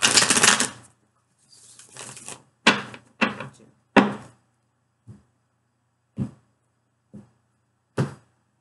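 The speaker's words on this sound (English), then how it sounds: "One shuffle and new spread." Tarot cards are shuffled and dealt with a long riffle followed by a series of sharp, separate snaps and slaps spaced about a second apart, close and crisp with no talking.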